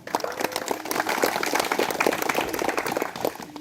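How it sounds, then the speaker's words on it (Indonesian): Sustained applause from an audience at a Vertical Rescue school ceremony in Purwakarta, dense steady clapping filling the whole stretch at moderate loudness, with some indistinct crowd murmur. "Tepuk tangan untuk beliau"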